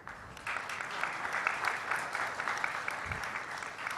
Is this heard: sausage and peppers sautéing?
no